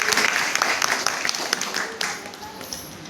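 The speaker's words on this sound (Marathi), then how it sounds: "त्यांच्यासाठी एकदा जोरदार टाळ्या वाजवा" Audience applause at a Dhammachakra Pravartan Day community gathering in Nandval, Satara, a steady crowd clapping that stays dense and fairly close throughout, with a voice faintly mixed in.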